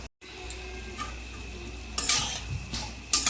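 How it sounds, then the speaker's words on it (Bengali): Oil sizzles steadily as fish roe fritters fry, with a few soft scraping and stirring knocks from a utensil close by. No voices. "এই পাশটাও আমি ভালো করে ভেজে নেব"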